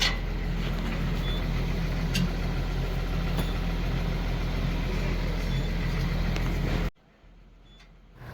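A BS3-standard truck diesel engine idles with a steady, loud low rumble for about seven seconds, then cuts away to near quiet.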